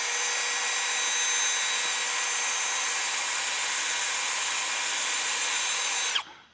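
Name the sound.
die grinder enlarging a bolt hole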